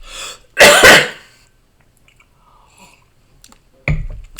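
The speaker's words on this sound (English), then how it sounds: "I feel like I've got a cough coming on." A man on a live stream gives one loud, close cough with throat clearing, followed by quiet, then a second short, harsh cough burst.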